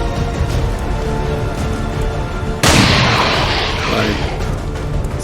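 A revolver gunshot in the video game XCOM 2 hits as one sudden loud burst at the midpoint, ringing off in a broad crash over a steady bed of game sound.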